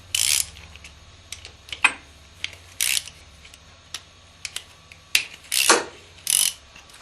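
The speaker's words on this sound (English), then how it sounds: "with a 10 millimeter socket, remove the 3 acorn nuts." A socket ratchet loosening three acorn nuts on a Hyosung GV250 motorcycle oil filter cover, close-up clicking in short separate bursts with pauses between them.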